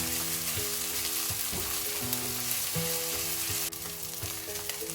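Onions sautéing in a hot pan, a steady close sizzle and crackle running throughout with a few brief stirring scrapes, no voices.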